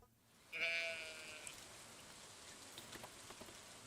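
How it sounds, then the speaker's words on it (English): A single sheep bleats in the video game Stardew Valley, one clear, fairly close call lasting about a second, followed by a soft patter like rain. "Alright, couple of sheep."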